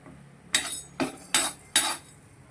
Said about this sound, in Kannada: ಇವಾಗ ಇದಕ್ಕೆ ನಾನು ಕೊತ್ತಂಬರಿ, ಕರಿಮೆಣಸು ಎರಡು ಚೆನ್ನಾಗಿ ಫ್ರೈ ಆಗ್ತಿದೆ.